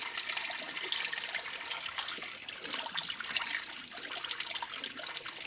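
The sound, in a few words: hand washing wool socks in water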